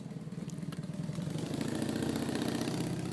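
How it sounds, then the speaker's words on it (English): A motorcycle engine rumbles steadily nearby, heard through an open car door, its low droning growl swelling slightly louder as it goes by, with no talk over it. "Can you hear that motorcycle, dudes?"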